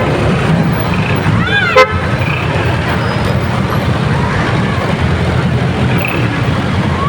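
Heavy morning traffic on EDSA at Guadalupe, slowed by an accident near the bridge, with a steady roadway rumble and a short car horn toot early on; people talk over it.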